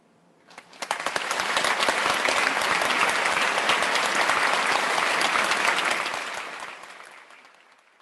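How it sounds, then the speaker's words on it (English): Audience applause at a business college honors celebration for award recipients, a dense clapping that swells in quickly, holds steady and loud for several seconds, then tapers off. "Let's give another round of applause to all of our recipients."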